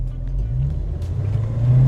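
A 1970 Ford Mustang Mach 1 with a Cleveland V8 accelerates, its low engine rumble steady and close, rising slightly in pitch toward the end with no talk over it.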